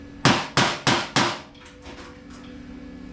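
Four sharp, evenly spaced hammer blows planishing welds on a Ford Falcon XK body panel, loud and close, followed by a few fainter taps as the ringing fades.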